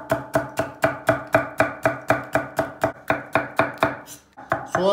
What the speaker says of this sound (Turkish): Biberimizi doğrayalım.